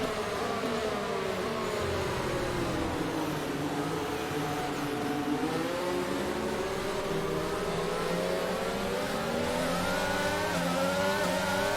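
F1 22 race cars accelerate together at a safety car restart on the Belgian circuit, a dense, loud, continuous chorus of engines rising and shifting in pitch throughout with no talking.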